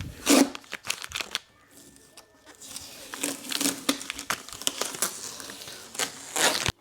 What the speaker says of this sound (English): I might give them a little bit of a hand polish just before we coat them, but we'll remove this tape and we'll see what we've got